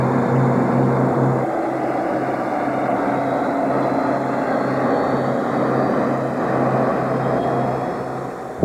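F-117 Nighthawk stealth jet engines running at high power in the air at night: a steady, loud, droning roar with a constant low hum that continues without a break.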